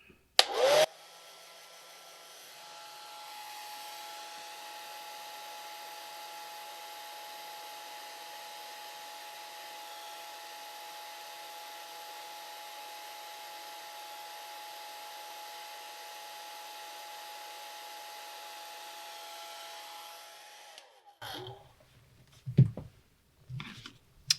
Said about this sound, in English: But I don't want the paint to run, so I'm going to dry it.